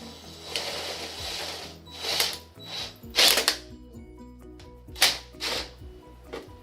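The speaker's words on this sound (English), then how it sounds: "we've got this fancy reciprocating vibrating saw thing. So first, we're gonna need to make some holes." A reciprocating vibrating saw cutting holes, heard as a series of short, loud rasping bursts with brief pauses between them, close by with a steady low hum underneath.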